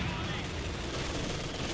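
Machine gun firing in Company of Heroes 2, a steady continuous rattle of automatic fire amid battle noise, heard under a commentator's voice.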